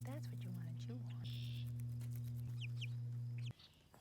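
A chicken clucks in short bursts, held close on someone's lap, over a constant loud electrical hum that cuts out near the end.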